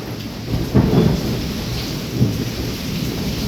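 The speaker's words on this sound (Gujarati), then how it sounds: "અનરાધાર વરસાદ થઈ રહ્યો છે અનરાધાર વાંકાણીમાં કડાકા ભડાકા કડાકા ભડાકા" Heavy rain pours down steadily in Wankaner during nonstop lightning while deep thunder rumbles in two loud rolls, the first stronger, the second shorter.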